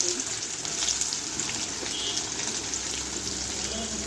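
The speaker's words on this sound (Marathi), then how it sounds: "कांदा मिरची सगळं फ्राय करून घेऊ आपण" Onions, green chillies, peanuts and curry leaves fry in hot oil in a pan, a steady close sizzle and hiss that runs unbroken with no voices.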